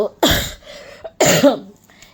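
Two harsh, close coughs from an unwell person, each a loud burst followed by a rasping tail, with a short breathy pause between them.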